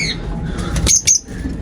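A parrot gives two sharp, close squawks in quick succession, with a brief flutter of wings amid faint background noise.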